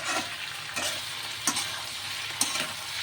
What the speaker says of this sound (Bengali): এটাকে ভালো করে কষাবো